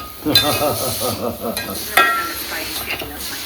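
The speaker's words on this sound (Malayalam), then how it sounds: "നല്ല മട്ടൻ വരട്ടിയതാണ് മോളെ ഉണ്ടാക്കുന്നത്" Mutton varattiyathu is stirred and fried in a pan, sizzling steadily up close while a spoon scrapes and turns the meat in repeated strokes, with a louder clatter partway through.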